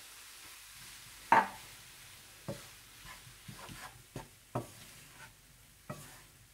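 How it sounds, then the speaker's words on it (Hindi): A spoon stirs roasted flour into a pistachio barfi mixture in a pan, scraping strokes arriving in irregular knocks against a quiet background. "आप इसमें भुना हुआ मैदा डाल दें और अच्छी तरह से मिला लें"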